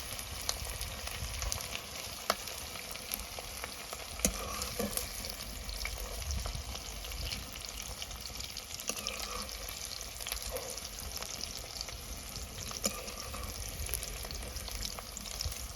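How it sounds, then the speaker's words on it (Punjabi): Capsicum and onion fry in hot oil with a steady, dense sizzle and crackle, punctuated by a few sharp pops and occasional stirring clinks, close and continuous with no voices. "ਸ਼ਿਮਲਾ ਮਿਰਚ ਪਿਆਜ਼ ਵੀ ਆਪਣੇ ਬਣ ਗਏ ਹੁਣ ਇਹਨਾਂ ਨੂੰ ਵੀ ਆਪਾਂ ਤੇਲ ਤੋਂ ਬਾਹਰ ਕੱਢ ਲੈਣੇ ਚੰਗੀ ਤਰ੍ਹਾਂ ਹੋ ਗਏ ਫਰਾਈ"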